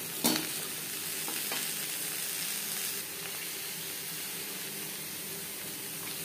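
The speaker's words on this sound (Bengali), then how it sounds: "জিরে ও তেজপাতার সাথে পেঁপে বেশ ভালো করে মিক্স করে দেবো।" Papaya pieces stirred with cumin and bay leaves in a hot pan for a Bengali papaya curry, giving a steady frying sizzle with a sharp scrape near the start and a few soft spoon knocks, without any talk.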